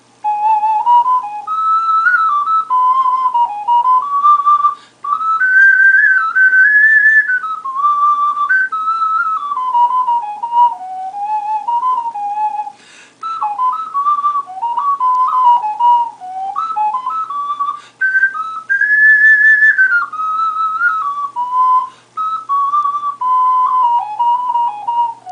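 An ocarina tuned a full step lower, with a mellow, earthy tone, plays a continuous wandering melody of sustained notes and smooth slides, close and clear with no talking.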